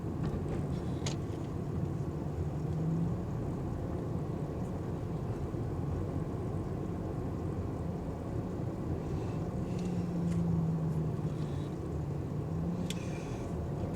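A car creeps along a city street past warehouses at about 24 miles per hour, giving a steady low engine and road rumble from inside the cabin with faint wind noise and no talking.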